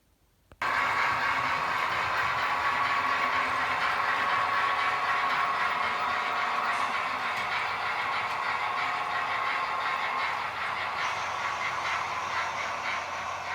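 Computer-controlled model trains run on a main-line layout, some fitted with sound, producing a steady, continuous broadband rumble and whir that persists evenly after a brief quiet start.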